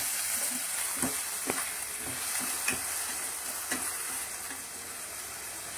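Onion and tomato frying in a pan: a steady loud sizzle with occasional scraping stir strokes from a spoon, close up and without voices.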